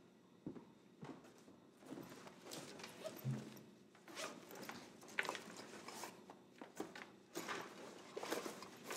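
A bag zipper is pulled open in several quick rasping bursts, mixed with rustling and rummaging through the contents, fairly close but quiet overall.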